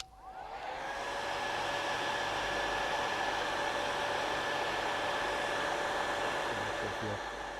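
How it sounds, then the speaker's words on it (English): Hair dryer blowing on gel over prosthetic scar makeup, a steady loud whirring hiss with a constant motor whine, switching on at the start and running alone until it tapers at the end. "Hit that with a hair dryer, get the gel set a little bit,"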